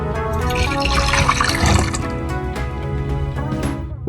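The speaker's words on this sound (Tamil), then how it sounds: "இந்த தண்ணியை வந்து இதில் ஆட் பண்ணிடலாம்." Water pours steadily into a cooking pan while making a Kanchipuram-style sundal, a continuous close splashing and gurgling flow that lasts throughout.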